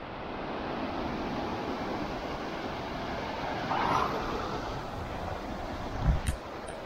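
Strong ocean waves at a beach in Batangas wash in a steady, broad roar mixed with wind buffeting the microphone, fairly faint overall, with a brief louder surge and a couple of knocks near the end.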